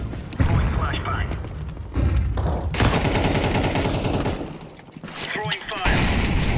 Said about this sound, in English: Grenade out. Throwing flashbang.